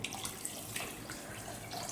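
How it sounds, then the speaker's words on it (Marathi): Water splashes and gurgles continuously as a jug of water pours into a pot of mackerel curry, a broad steady rush with small bright drips, fairly quiet and without speech. "1 तांब्याभर पाणी टाकले।"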